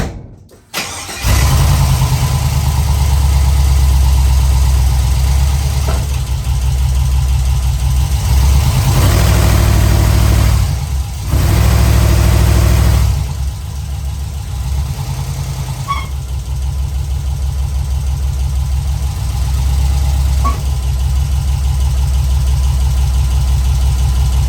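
A Chevrolet C10 with a trashed, damaged engine starts up and runs loudly and steadily close by, a rough low idle that dips briefly partway through, with no talking.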